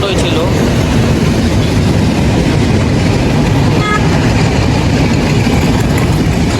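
A short train runs along a rail line by a cantonment, a loud close rumble with steady clickety-clack of the wheels and a brief high squeal partway through.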